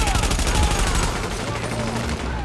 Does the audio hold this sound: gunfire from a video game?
yes